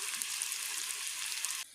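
Potatoes fry in a pan on a home stove, a steady close crackling sizzle that cuts off abruptly near the end.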